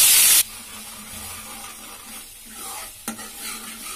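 Onion paste dropped into hot oil already holding asafoetida and cumin, for a rajma curry: a loud hissing burst at first, then a steady close sizzle and frying crackle, with one sharp stir partway through.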